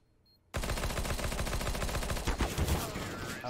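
Gunfire in Counter-Strike: Global Offensive, a sudden burst of rapid automatic shots after a brief quiet, loud and continuous with dense repeating reports that thin slightly toward the end.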